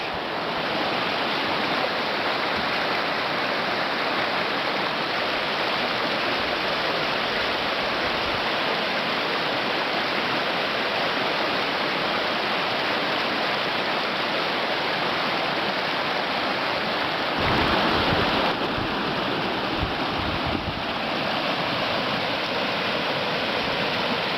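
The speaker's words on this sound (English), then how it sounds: "with the rain, this river is looking a little bit tricky to cross" River swollen after rain on the Fundy Footpath, a broad, loud, steady rush of flowing water that roars on without a break, with no voices over it.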